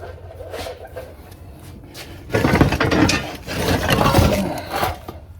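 A homemade hydraulic press is pumped by hand, producing close, rhythmic mechanical ratcheting and clunking strokes that grow louder partway through, with no speech over it.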